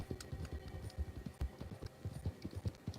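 Horse hooves clip-clop steadily in a Wild West video game, a quiet, even trotting rhythm of soft thuds with no talk.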